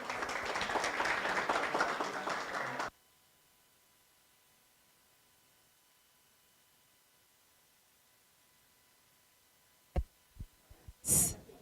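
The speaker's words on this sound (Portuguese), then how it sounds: "palmas para a nossa diretora" Brief applause from an audience honoring a director at an arts-education event, lasting about three seconds, moderately loud, then a long near-silence broken by a few faint knocks or handling bumps.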